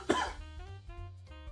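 A person coughs sharply once up close during a live stream, followed by a strained throaty rasp and a low hum of background music.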